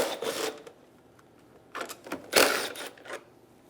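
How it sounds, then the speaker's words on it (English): A 10mm socket wrench ratchets out the condenser fan bolts on a 2003-2008 Honda Pilot, giving bursts of rapid, close metallic clicking separated by short quiet gaps, with no talking. "Using a 10mm socket, we're going to remove the 4 bolts for the condenser fan and the 2 bolts on top of the radiator"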